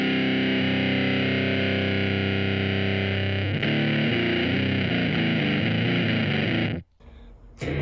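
An electric guitar plays through a fuzz distortion patch on an Empress ZOIA pedal, miked with a Sennheiser E609, a thick buzzing sustained chord and then shifting notes, cutting off abruptly near the end.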